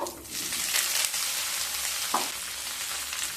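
Boiled, drained potatoes fry in hot ghee in a pan, making a dense, continuous close sizzle with a brief scrape of stirring partway through.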